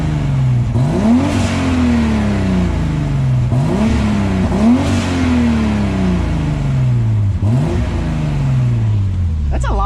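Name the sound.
turbocharged BMW E30 with M52 engine revving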